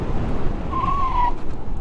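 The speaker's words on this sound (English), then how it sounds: "I slide the rear tire around all the time." A 2026 Honda Grom motorcycle slides its rear tire, with a rough engine drone underneath and a brief rising and falling squeal from the tire in the middle.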